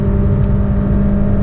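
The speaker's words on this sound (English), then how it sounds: "So you can hear the CVT revving up," A 2020 Honda HR-V LX with a 1.8-litre engine and CVT transmission revs steadily under acceleration, giving a continuous droning engine hum from inside the cabin with no talk over it.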